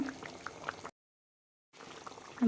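Egg kulambu, a Tamil egg curry, bubbling and simmering softly in a pot. The quiet burbling breaks off into near silence for a moment, then resumes.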